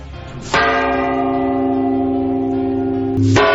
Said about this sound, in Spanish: Esta noche húmeda, esta noche desangelada, suenan campanas. Campanas como esta.